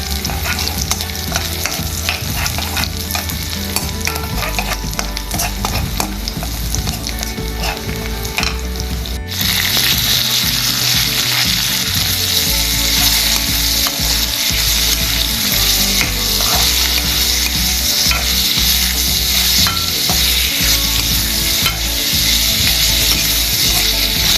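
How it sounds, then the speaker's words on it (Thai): Chicken breast stir-fries in a hot pan with oil and garlic, a dense continuous sizzle that grows louder and brighter partway through, accompanied by scraping and stirring of a spatula, close and without voices. "พอหอมแล้วก็ลงอกไก่ได้เลยค่ะ"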